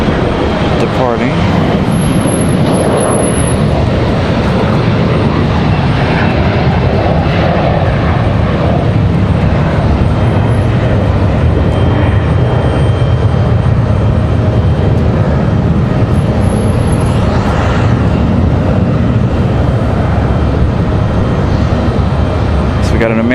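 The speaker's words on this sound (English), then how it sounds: "Little Delta connection action happening. Little E175" A Delta Connection Embraer E175 jet departs Raleigh-Durham International Airport with a loud, sustained engine roar that stays broad and steady throughout.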